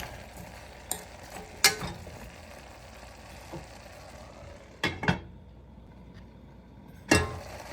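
Vegetables for a vegan goulash softly sizzling in a pot, with a low steady frying hiss broken by several sharp clinks and scrapes of a utensil stirring against the pot, with no talk.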